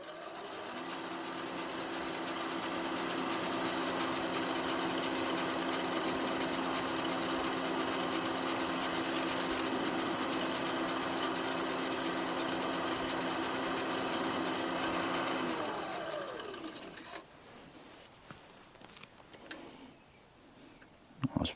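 A wooden box waxed with Howard's Feed and Wax is buffed on a spinning lathe, giving a steady close motor drone with a hum that runs for about fifteen seconds before winding down and stopping.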